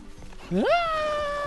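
A cartoon cat in the BattleBlock Theater video game lets out a single loud, rising meow that swoops up and then holds, close and clear after a brief stretch of quieter background sounds.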